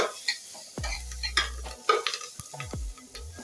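Bay leaf, garlic, onion and chilli sautéed in a pan for carrot soup, a spatula scraping and stirring in close, uneven strokes over a light sizzle, with a few sharp knocks.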